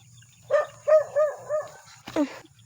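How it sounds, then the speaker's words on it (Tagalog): A dog barks four times in a quick series, fairly close, followed by a sharper yelp after a short pause over a quiet background. "Ayun, sumunod pa rin yung aso."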